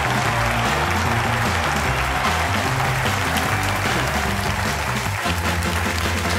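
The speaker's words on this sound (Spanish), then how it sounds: "Un aplauso para Jao Fornés." Applause from a studio audience welcoming guest Jao Fornés on a late-night show, loud and sustained, with music or band sounds mixed underneath throughout.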